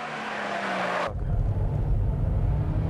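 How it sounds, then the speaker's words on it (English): An Opel Astra racing car goes to full throttle, its engine note rising under load and then cutting abruptly to a deeper, louder low rumble, close and without talk. "the Opel Astra is giving full throttle"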